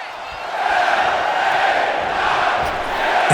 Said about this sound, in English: And you hear that crowd right there